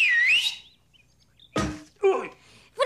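A man in a Lucky Luke cartoon gives a sharp two-note wolf whistle rising and falling, followed by a few short knocks and voices.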